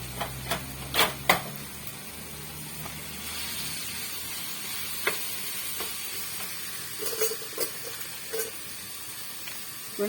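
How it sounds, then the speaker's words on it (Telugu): Washed crabs hitting a hot pan for crab curry, a steady frying sizzle with sharp clicks and scrapes of stirring scattered throughout, close and fairly quiet with no talking. "పీతలు కడిగి పెట్టుకున్నాం కదా, ఇవి ఇందులో వేసేసుకుంటున్నానండి"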